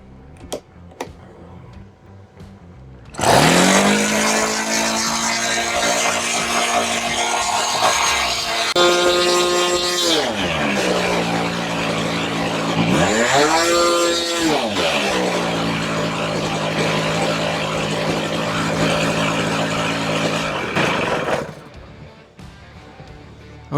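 A thrift store RC plane's small glow engine catches abruptly and screams at full throttle for about eighteen seconds, its high buzzing pitch dipping and rising a few times before it cuts out.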